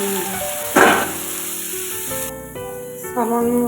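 Soaked soybeans hit hot oil in a pan with a sudden loud burst of sizzling that settles into a steady frying hiss, under a background hum.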